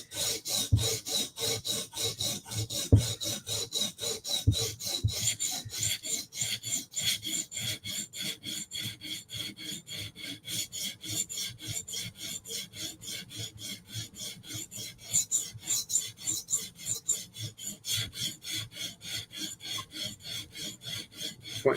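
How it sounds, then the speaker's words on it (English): A soft steel knife blade is drawn over a sharpening stone along its belly near the tip, making a dense, rhythmic rasping of quick, evenly repeated strokes, close and steady with no talking. "Sharpening the easy part to sharpen, the belly on the front of the tip."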